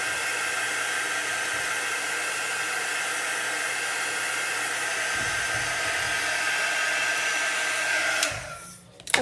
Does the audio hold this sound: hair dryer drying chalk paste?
yes